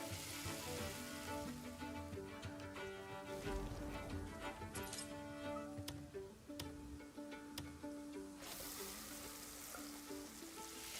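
Meat sizzles and fries over a campfire in the video game Crimson Desert, a steady crackle running under background music throughout.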